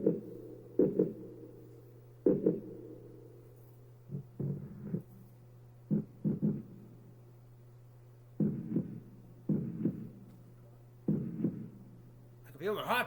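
A heartbeat sound effect played on a Roland GO KEYS 3 keyboard gives a steady series of paired low thumps, repeating regularly over a constant low hum.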